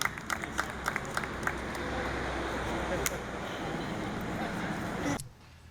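Outdoor crowd clapping at an apartment building's grand opening: a few scattered early claps build into steady, sustained applause for about five seconds, then cut off abruptly.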